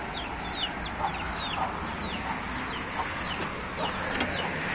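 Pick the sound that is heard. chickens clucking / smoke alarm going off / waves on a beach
chickens clucking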